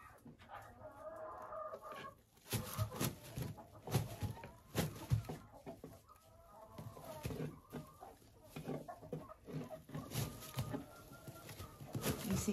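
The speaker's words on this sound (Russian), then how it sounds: "Вот так вот курочка-молодка учится нестись в мои гнезда." A young laying hen clucking in a straw-lined nest box, with repeated soft clucks and throaty murmurs interspersed with sharper rustles, close and fairly quiet.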